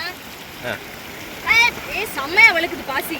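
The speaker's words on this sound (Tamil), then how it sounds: "வழுக்கும், தண்ணி ஓட்டம் ஜாஸ்தி." Fast-flowing river water near a dam rushes steadily beneath people talking close by, a continuous wash of current filling the background.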